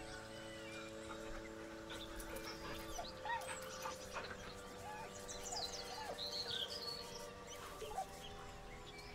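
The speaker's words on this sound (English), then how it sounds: "The dog whimpers nervously," A dog whimpers nervously in Baldur's Gate 3, soft whining over game music and ambient chirps, faint and intermittent across the scene.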